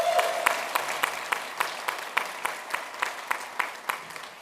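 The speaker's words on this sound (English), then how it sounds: "Give a round of applause." Audience applause at a university honorary doctorate ceremony, a steady wash of many hands clapping with regular sharp peaks, fairly distant and moderately loud, with no voices over it.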